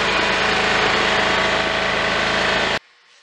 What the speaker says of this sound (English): I've strapped it to the chains of my yard tractor, and I'm just going to putt up and down the alley with the gravel rolling around inside that tank.